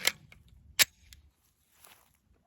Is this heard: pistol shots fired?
yes